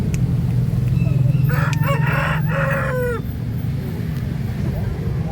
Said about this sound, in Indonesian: saya dapati ayam ekor lidi yang warnanya unik sekali